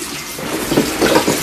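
Hot, steaming water is poured onto a plate during dishwashing, giving a brief, continuous splashing rush that swells slightly toward the end, close and fairly loud, with no voices.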